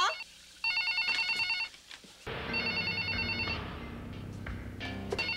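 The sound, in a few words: telephone ringing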